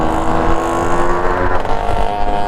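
A vintage car drives along with a steady, loud engine drone close by, holding an even tone without pause.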